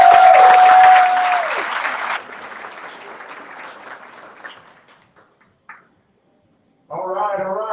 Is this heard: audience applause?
yes